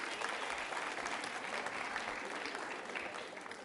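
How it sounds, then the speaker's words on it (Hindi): Steady applause from a quiz show audience at a women's college and women's club event fills the room evenly, a dense, distant-sounding wash of many hands clapping without pause. "तालियां जोरों से बजाइए।"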